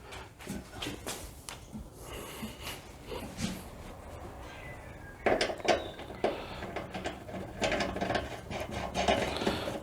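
Ammo box pannier being bolted onto a bike frame, a series of close metallic clanks, taps and ratcheting clicks in irregular bursts, busier and louder in the second half.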